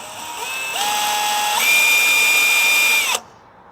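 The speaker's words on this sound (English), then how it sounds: "might need a new drill. Pretty wobbly here, my DeWalt dude" A DeWalt power drill with a wobbly chuck bores into sheet metal in a car's engine bay: a loud, steady motor whine that shifts pitch as the bit bites, runs about three seconds, then cuts off abruptly.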